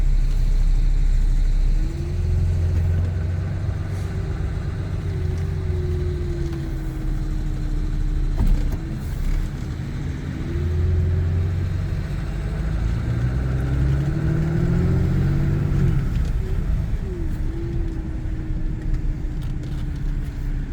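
A Ram four-wheel-drive pickup truck idling and driving, then shifting into reverse, its mid-pitched engine droning steadily with a few gentle revs rising and falling, close and alone.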